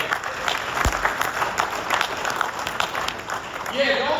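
Audience applause at a St Louis recovery gala, a scattered mid-distance crowd clapping across the stretch with a voice talking over it.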